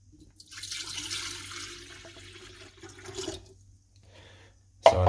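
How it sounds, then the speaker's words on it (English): A jug of 500 ml of water is poured into a kettle, giving a steady splashing stream for about three seconds that tapers off, then a quiet pause and a sharp knock at the end. "I've got a jug that has 500 milliliters of water, which I'm going to put into my kettle."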